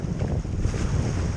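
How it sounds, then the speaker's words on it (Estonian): Steady, loud wind rushes over high water on a fine day, a continuous broadband roar with low buffeting gusts, likely recorded from a small boat with some microphone wind noise. "Tuul on põhimõtteliselt kuskilt puhub"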